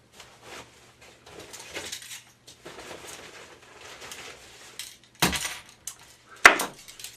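A backpacking stove is handled close up with light metallic clinks, rustles and taps, ending in two sharper clanks.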